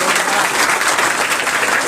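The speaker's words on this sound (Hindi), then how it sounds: "एक बार ताली के साथ उनका स्वागत" A crowd applauding at a coaching centre event, steady loud clapping that greets a topper student and fills the whole moment with no speech over it.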